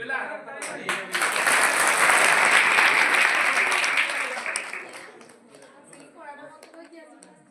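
A burst of enthusiastic clapping from a school audience swells quickly, stays loud for a few seconds, then fades away as a voice begins talking.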